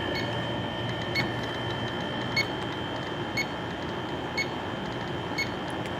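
Radiation detector ticks steadily over a constant electronic hum, with soft evenly spaced beeps about once a second and scattered faint clicks, close and alone.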